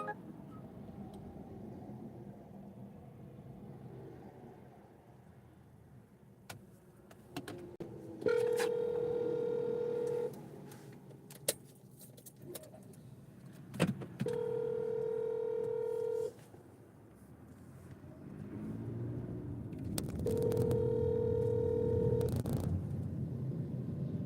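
Telephone keypad tones on an Internal Revenue Service phone line: three steady, evenly spaced beeps, each about two seconds long, sounding over a faint background hum.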